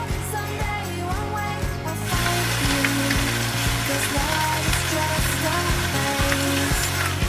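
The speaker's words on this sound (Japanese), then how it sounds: "おお、もうジュージュー音が" Pork belly wrapped around mochi and cheese sizzles in a pan over medium heat, a loud steady frying hiss that swells after a couple of seconds and continues close and unbroken.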